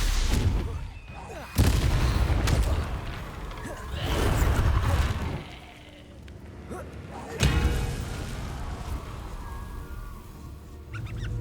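Confringo blasting curse and other spells cast in combat in Hogwarts Legacy, several loud booming blasts with rumbling impacts spaced a few seconds apart, amid battle clatter.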